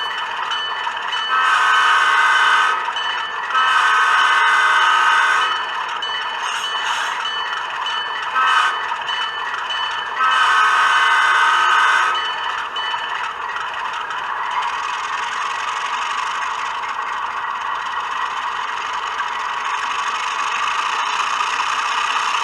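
A scale sound speaker in a Bowser RS-3 model locomotive rings its bell in repeated bursts over a steady engine rumble, the ringing stopping and restarting several times, close and fairly loud.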